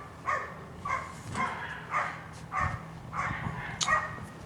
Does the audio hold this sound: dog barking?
yes